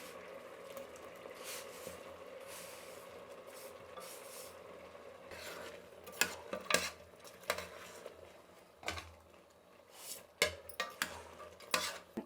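Jaggery is added to cooked chana dal in a pot, giving quiet scraping and stirring with a metal utensil, then sharper clinks and knocks against the pot in the second half.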